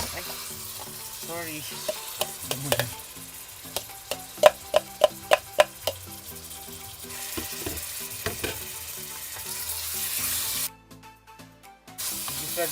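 Chicken seasoned with salt and pepper sautés in a hot pan, giving a continuous sizzle with scraping stir strokes and a run of sharp ticking clicks midway, then a brief dip before the frying resumes; a voice briefly speaks.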